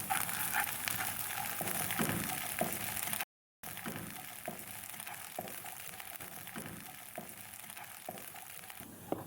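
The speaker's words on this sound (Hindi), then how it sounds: "मटर को भी थोड़ा सा फ्राई कर लेंगे।" Peas frying in a pan with softened carrots for a pasta dish: a steady soft sizzle with a few clicks of stirring and scraping, close and moderately quiet, with a brief dropout partway through.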